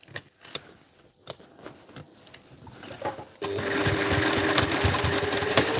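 A sewing machine basting the flap of a Tony Tony Chopper cosplay backpack runs in a loud, steady burst from about the midpoint to the end, after a stretch of quiet handling clicks and rustles.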